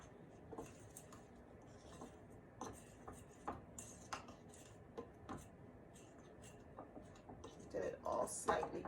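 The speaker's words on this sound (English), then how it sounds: "I'm gonna throw it in there and just mix it with the fork" A fork clinks and scrapes inside a bowl as fry bake dough is mixed, with quiet, irregular light taps and soft talk nearby and a slightly louder clatter near the end.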